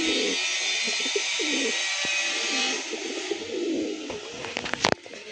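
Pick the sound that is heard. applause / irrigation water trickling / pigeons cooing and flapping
pigeons cooing and flapping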